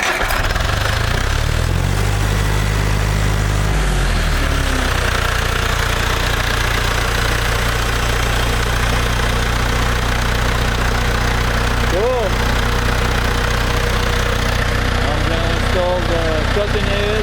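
Diesel engine with a repaired Bosch VA4 injector pump idling steadily and loudly, a low continuous rumble running throughout, with a brief rise in pitch near the start and faint background sounds.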